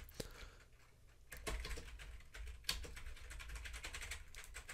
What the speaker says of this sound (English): Let's try typing in a little program.